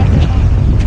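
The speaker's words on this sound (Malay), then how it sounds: "Angin kuat." Strong wind at a beach during shore fishing, a steady low buffeting roar across the microphone, loud and continuous for under a second.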